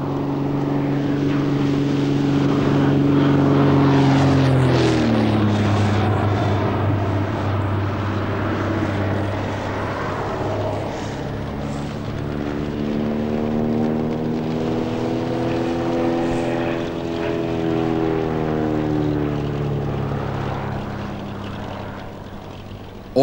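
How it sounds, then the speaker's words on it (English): Propeller planes spraying dispersant over an oil spill during a tanker salvage drone loudly and steadily, the engine pitch sweeping down as one passes close by, then a sustained engine roar continuing alongside. "Planes are brought in to spray dispersant to break down the oil and prevent it from polluting the shoreline."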